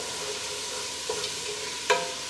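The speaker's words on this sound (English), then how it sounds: "Do you hear how it's sizzling? No oil necessary." Chopped onions dry-sautéing in a hot pan with no oil give a soft, steady sizzle close by, broken by two short scraping stirs near the middle and end.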